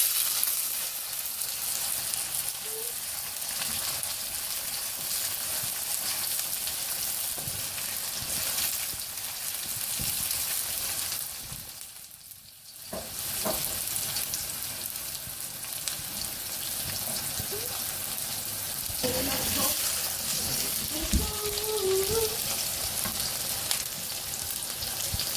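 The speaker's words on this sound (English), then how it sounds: "Fry the onion until they are golden brown." Chopped onions sizzle in a pan for chicken curry, a loud rain-like frying hiss that runs almost the whole time, dipping briefly midway, with occasional stirring scrapes and no voices.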